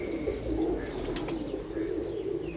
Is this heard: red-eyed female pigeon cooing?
yes